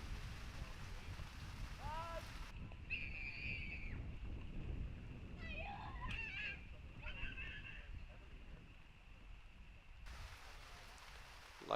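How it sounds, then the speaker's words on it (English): Heavy rain pours down during a baseball game as a constant broad hiss lasting the whole stretch, with faint honking, goose-like calls and muffled voices mixed in. "As the rain starts coming down quite heavily here."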